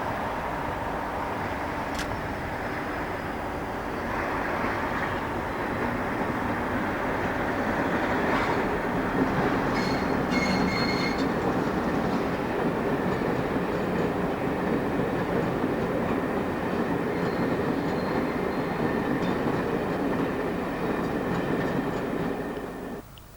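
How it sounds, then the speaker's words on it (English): A British Rail Class 47 diesel locomotive hauling a Bournemouth to Edinburgh passenger train in place of a failed HST, a steady, loud engine rumble with faint rail clatter that holds for the whole stretch, no voices. "This 47 is substituting for a failed HST on the Bournemouth to Edinburgh service."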